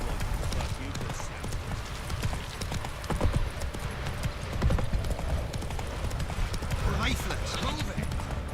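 Horse hooves clip-clop at a brisk, galloping pace in the Witcher 3 video game, a steady close rhythm of hoofbeats with a voice talking over it.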